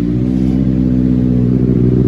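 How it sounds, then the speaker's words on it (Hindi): Benelli 600i motorcycle engine idling without revs during a sound check, a steady, loud, throbbing rumble with even low harmonics and no speech over it. "तो चलो मैं आपको जो है ना इसका साउंड चेक करवाता हूँ"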